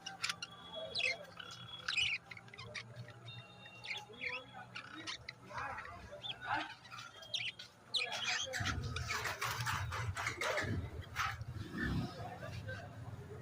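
Lovebirds chirp repeatedly in quick, high bursts, with a busy crowd of birds close by and people talking over them in a bird market.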